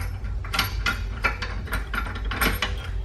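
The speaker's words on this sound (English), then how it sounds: "So first we have the hitch bolt. I'll just unscrew that by hand." Light metallic clicks and ratcheting taps as the hitch bolt on a RockyMounts BackStage swing-away platform bike hitch rack is unscrewed by hand, close by, with no talking.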